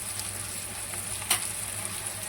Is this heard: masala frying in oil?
yes